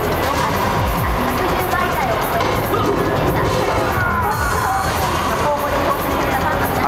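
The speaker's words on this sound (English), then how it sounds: "Huge crowd of people watching it." Dense babble of a large crowd at the Sega booth during Tokyo Game Show 2007, steady and loud throughout, with busy overlapping voices and game sounds from the show floor.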